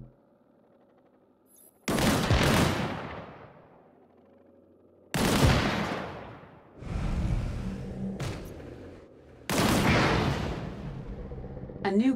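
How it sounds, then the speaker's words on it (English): Three loud bursts of gunfire hit a barrel in the shooter game Disintegration, each sharp blast decaying into a rumbling boom, with gaps of quiet between them and a faint voice in the background. "Shoot that barrel."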